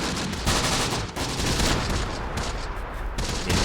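Heavy gunfire in the World War II strategy game Close Combat: The Bloody First, a dense, continuous barrage of shots and bursts with brief dips, loud and sustained, with no speech.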